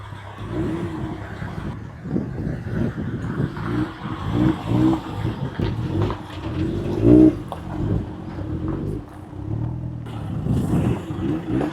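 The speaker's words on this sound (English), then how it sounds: "So the durian and fruit seller is off in his Hilux pickup." Toyota Hilux pickup driving away from a rural spot beside a wooden thatched house, its engine rumbling and revving through gear changes and gradually pulling off, with faint birds in the background.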